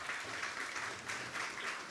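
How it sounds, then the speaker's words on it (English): Audience applause at a live comedy learning event, a steady round of clapping filling the room throughout with no talk over it. "round of applause to Adam, please"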